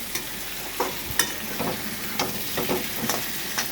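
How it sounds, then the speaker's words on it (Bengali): Chicken leg pieces sautéing in a pan for Bengali chicken kasa, a soft steady sizzle under repeated sharp scrapes and clacks of a spoon stirring, close and without talk. "দেখুন দারুণ সুন্দর করে কষাচ্ছি।"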